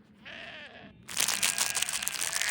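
Sheep bleat close by, a wavering bleat early on, then a burst of loud crinkling and rustling of Haribo sweet wrappers continues to the end.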